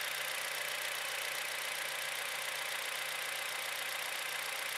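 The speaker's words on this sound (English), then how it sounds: "We start the engine." A car engine idles steadily during coil-on-plug ignition testing, giving a constant, even hum with no changes in pitch or loudness and no voices.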